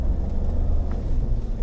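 A 2018 Ford Expedition in four-wheel automatic pulls away through deep sand, its engine giving a low, steady rumble heard from inside the vehicle over a brief stretch without speech.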